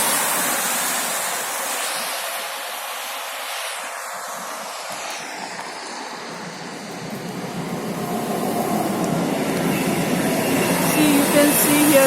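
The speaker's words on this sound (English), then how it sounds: "You can see here trains are also moving." A train moves along the tracks in rainy Murtenstrasse, Switzerland, a steady broad rumble that swells louder toward the end, heard beneath the constant hiss of rainfall.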